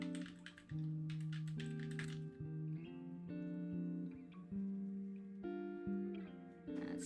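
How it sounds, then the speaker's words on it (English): Typing on a computer keyboard, a fast run of light key clicks, faint beneath prominent sustained musical tones playing in the background. "let me type the Discord in here"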